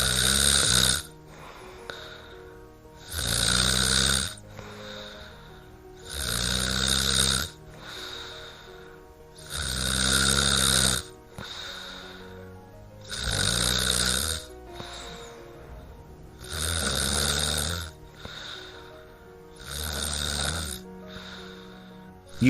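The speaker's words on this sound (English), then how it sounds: "listen to a few recorded sleeping breathing patterns of other people" Recorded snoring of a sleeping person, loud rhythmic rasping snores repeating about every three to four seconds with quieter breaths in between, steady and close throughout.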